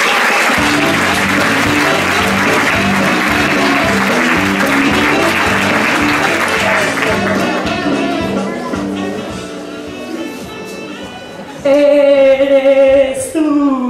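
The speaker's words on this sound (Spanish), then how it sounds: "Un fuerte aplauso para Judith Forroche." An audience at a comedy monologue show gives long, full applause that fades gradually, then music starts and carries on alone.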